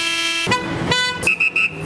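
Car horns honk on busy Mexican main streets: a long sustained blare, then a brief pause and a second honk, followed by three short, close, loud toots in quick succession.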